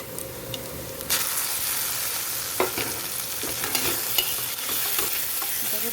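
Onion frying in a pan as dried chili and garlic paste go in, a steady close sizzle with intermittent stirring scrapes and clicks, no voices.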